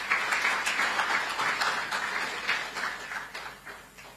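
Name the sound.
audience applause for marathon runner Alphonce Simbu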